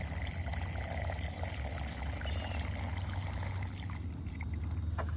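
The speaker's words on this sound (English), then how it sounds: "So we're gonna feed the pipe with the water." Water poured into a small pipe set in a hole dug beside bell pepper plants in a garden, a steady trickling, gurgling flow that runs continuously and close by, with no talk over it.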